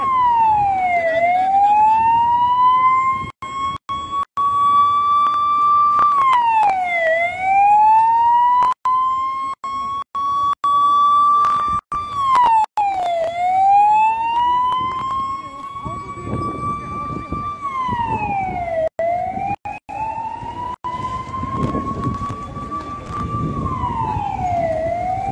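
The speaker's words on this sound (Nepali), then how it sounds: "घाइते भएका प्रहरीलाई लैजानका निम्ति प्रहरीको एम्बुलेन्स आइरहेको छ" A police ambulance siren wails in a steady, repeating rising-and-falling cycle as it arrives at a street protest in Baneshwar, loud and continuous, with a voice speaking and crowd noise underneath.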